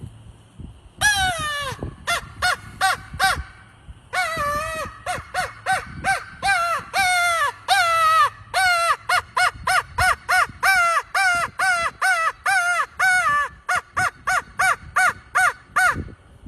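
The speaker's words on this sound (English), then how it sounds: "I'll make some crow calls for it." A blown crow call made of burnt Osage wood gives a long series of loud, nasal caws, delivered alone in quick rhythmic bursts with short pauses between groups.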